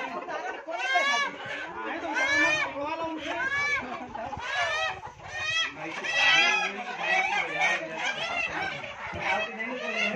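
Many Sonali desi chickens cluck and squawk together in a dense, noisy chorus close by, with overlapping calls throughout.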